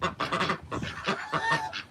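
Backyard geese honk together at feeding time among chickens, ducks and turkeys, a dense overlapping chorus of nasal calls that runs steadily and close.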